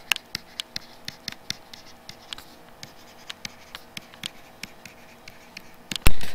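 A pen scratches across a blank sheet of paper in quick, irregular strokes while drawing diagrams, close and clear, ending with a sharper louder rustle or tap.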